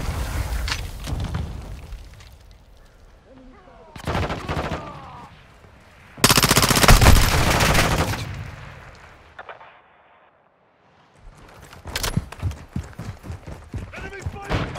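Bursts of gunfire from the video game Call of Duty: Modern Warfare 2 in a team deathmatch, loud rapid volleys and single shots with a pause near the end, mixed with in-game radio voice lines.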